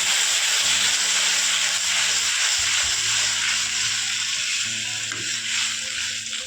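Water hits a hot pan while Maggi noodles cook, raising a loud, steady sizzling hiss that holds for several seconds with a faint low hum beneath it.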